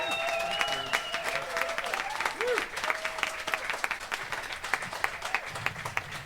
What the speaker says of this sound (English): Can we give a massive, huge round of applause for the very lovely Mr. Darren Clark.